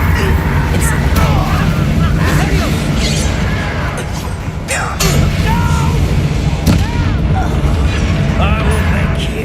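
Combat in Hogwarts Legacy as an Incendio fire spell is cast, heard as loud magical whooshes, thumps and booming bursts over a dense, steady game background, with some voices.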